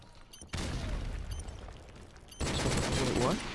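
Grenade blast and bursts of gunfire in a tactical shooter video game, loud sudden explosions starting abruptly mid-clip with a rapid rattle of shots, while players talk over headsets.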